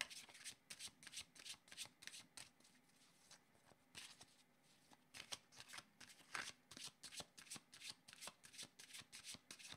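Cards being shuffled for a tarot-style card reading, a quiet close run of repeated riffling and flicking bursts in an irregular rhythm with a short pause midway.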